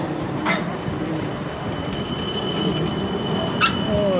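An Amsterdam tram passes very close along a city street with a steady low rumble, a couple of brief sharp squeals, and a thin wheel whine near the end.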